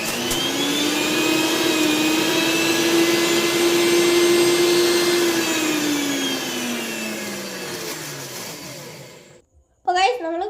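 An electric mixer grinder crushes garlic cloves with a loud, steady motor whine that holds for several seconds, then slowly winds down and stops; a short burst of voice follows.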